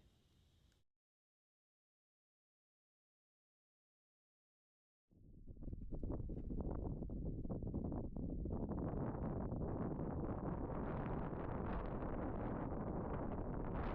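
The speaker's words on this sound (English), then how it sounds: "It was pretty cold and windy as we got above tree line." Cold wind gusting above tree line on the Whitecap Mountain climb of the Appalachian Trail's Hundred Mile Wilderness, a brief hiss before silence, then a loud, sustained roar buffeting the microphone for the rest of the stretch.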